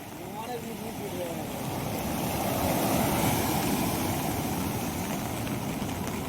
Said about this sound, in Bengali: পুরীর সমুদ্র রাত্রিবেলার ভিউ, কি বড় বড় ঢেউ পড়ছে